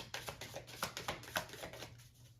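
Tarot cards being shuffled by hand, a quick run of crisp riffling flutters in uneven bursts, close and fairly quiet, with no talking.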